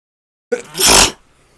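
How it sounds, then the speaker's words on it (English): One loud, close sneeze: a sharp onset, then a broad noisy burst lasting about half a second. It sits alone after silence, with only faint room noise after it. "That was a sneeze test."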